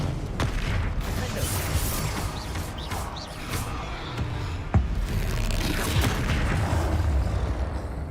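A Confringo fire-blast spell from Hogwarts Legacy goes off as a booming explosion amid a dense, continuous stretch of game combat noise, with a sharp crack near the middle and voices speaking through it.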